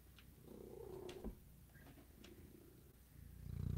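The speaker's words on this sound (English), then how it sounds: "he's like purring his face off" Soft, steady purring from a cat, a low continuous rumble close by, with faint background noise.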